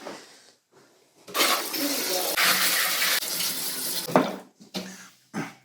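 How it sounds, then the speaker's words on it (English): A kitchen tap runs steadily for several seconds while vegetables are washed under it for sauerkraut, with the water stream broken by short pauses and splashes near the end. "Michael, you need to wash vegetables."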